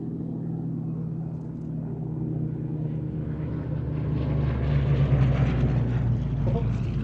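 A Hawker Sea Hurricane flies over the Shuttleworth airshow, its piston engine a steady, rumbling drone that grows gradually louder as the aircraft approaches.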